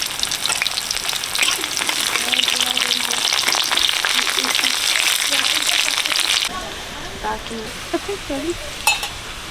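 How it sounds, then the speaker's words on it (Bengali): Chopped onion dropped into hot oil with five-spice seeds in a wok, a loud bright sizzle for several seconds that then quiets to softer crackling and a few clinks. "কড়াই তেল দিয়ে দিচ্ছি পাঁচফোড়ন দিয়ে দিচ্ছি তেল গরম হয়ে গেছে পেঁয়াজ কুচি দিয়ে দিচ্ছি"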